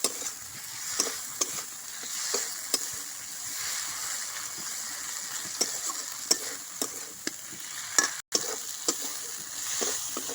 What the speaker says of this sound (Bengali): আলুর সাথে ভালো করে মাখিয়ে নিলাম, নিয়ে 2-3 মিনিট ধরে কষে নেব।